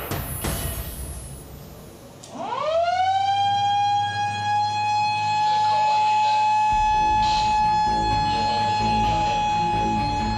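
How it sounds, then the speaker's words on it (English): A loud wailing shark alarm siren at Bondi Beach rises from silence, then holds a steady piercing tone with strong harmonics, while surf and voices murmur faintly underneath. "Can I put the siren on?"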